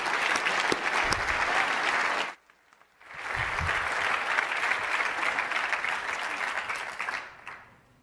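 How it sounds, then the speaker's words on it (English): Applause from a conference audience greeting a speaker coming on stage: dense, sustained clapping for about two seconds, a brief lull, then a second long swell of clapping that fades out near the end. "let's give him a big round of applause as he comes in"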